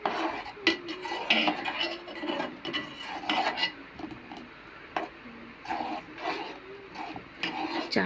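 A utensil scrapes and clinks repeatedly against a pan while tea is stirred without water or sugar, giving close, rhythmic rasping strokes with brief pauses between them.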